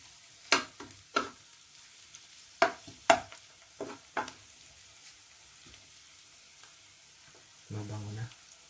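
Garlic frying in a pan, heard as a few sharp scraping stirs and clacks over a faint, quiet sizzle, followed by a short low rattle near the end.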